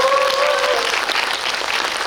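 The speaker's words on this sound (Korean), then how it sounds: "감독님께 박수 한번 네." Applause from an audience for the director at a film screening Q&A, dense steady clapping filling the hall for about two seconds, with a brief tonal voice or whistle at the start.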